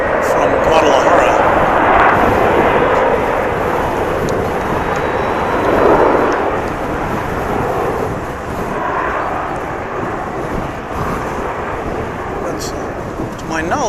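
A Volaris airliner departing DFW Airport, a broad, steady jet roar that holds loud throughout, with a swell around the middle, heard from an outdoor spotting position.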